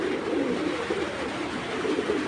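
Tota pigeons of an original old breed, milk-eyed birds, coo in a low, steady, overlapping murmur that carries on without a break, fairly close and moderately loud.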